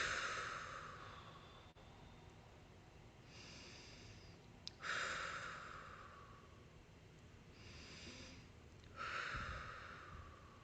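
Slow, deep breathing repeated about three times, each long audible inhale followed by a breathy exhale in a quiet room, close and soft with no speech.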